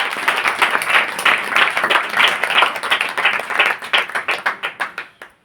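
A church congregation claps in a steady rhythmic beat for about five seconds, the claps fairly close and loud before thinning out and stopping at the end.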